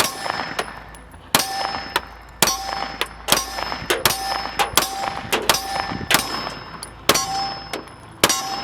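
Repeated sharp metallic clangs from pistol rounds striking steel targets during red dot shooting with an Arory RMU 1 sight, each impact a bright ringing ping at irregular intervals, loud and close, with no talking.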